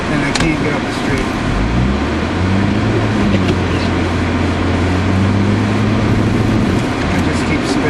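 A car revs its engine hard on a snow-covered street while its wheels spin without grip, a loud, close, droning roar with the pitch climbing and holding.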